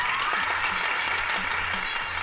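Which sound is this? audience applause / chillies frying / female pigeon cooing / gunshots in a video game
audience applause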